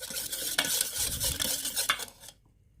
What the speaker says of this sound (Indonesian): Aduk-aduk.